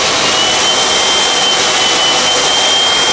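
A pet blower dryer with ozone, used for grooming a Persian cat, runs at about quarter speed, a loud steady close whooshing roar that continues unbroken throughout with a faint high whine.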